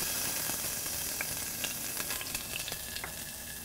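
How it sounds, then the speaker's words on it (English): Very finely minced jalapeno peppers sizzling in melted pork lard in a saucepan, a close, steady hissing fry dotted with sharp crackling pops, no voices. "To the melted pork lard, I'm going to be adding some very finely minced jalapeno peppers."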